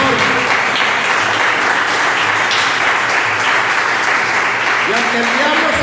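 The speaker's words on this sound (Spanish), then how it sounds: "Dale un aplauso al Señor." Church congregation claps loudly and steadily in praise, a dense continuous applause with cheering voices mixed in throughout.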